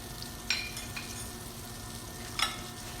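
Ginger and cinnamon sauté in butter and caramelizing brown sugar, a soft continuous sizzle in the pan with two brief louder stirring scrapes, fairly quiet and close.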